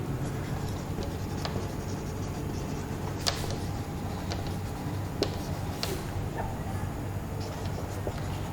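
A pen scratches quickly across paper in fast, continuous strokes, with occasional sharper taps and ticks, close and fairly quiet.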